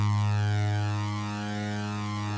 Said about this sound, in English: And if I bring up the flanger